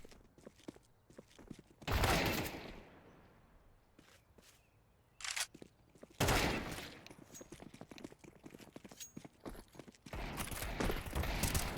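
Counter-Strike gunfire during a competitive match warm-up, with rapid bursts of shots rattling off in several loud clusters among scattered clicks and quieter shots.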